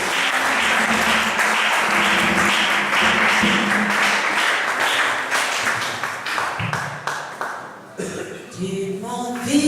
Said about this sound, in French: Pendant qu'elle s'avance, nous acclamons l'Éternel notre Dieu.